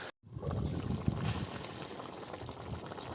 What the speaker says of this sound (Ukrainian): Так, все підкипіло, овочі дали сік.